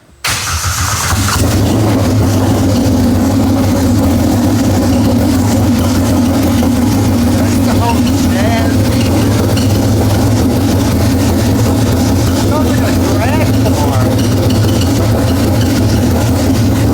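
A 450 HP supercharged Polaris Pro R UTV engine with RPM exhaust fires up after a brief silence, then idles loudly with a deep, throaty exhaust rumble that holds steady for the rest of the clip.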